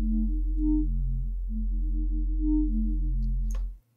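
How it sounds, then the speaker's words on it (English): A Serum synth wavetable for a drum and bass mid bass plays dry with no effects, a sustained buzzing tone with shifting resonant overtones that lasts nearly four seconds before cutting off abruptly. "listen to the wavetable on its own, it sounds like this."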